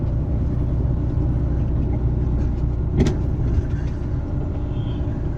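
Car driving along a bumpy concrete slab road through woods past dachas, a steady low engine and tyre rumble from inside the cabin with one sharp jolt midway.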